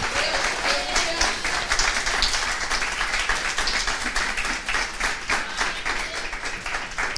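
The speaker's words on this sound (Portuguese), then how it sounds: "Se você crê, pode aplaudir a Deus." A church congregation claps continuously through a Portuguese-language service, with dense, loud, sustained applause from many hands and no pauses.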